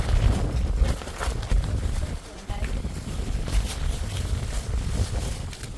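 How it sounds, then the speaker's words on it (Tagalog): Strong coastal wind at the Cliffs of Moher buffeting the microphone in a loud, continuous rumbling roar with gusty surges throughout, voices faintly under it. "Medyo malakas ang hangin, nalilipad yung tripod ko."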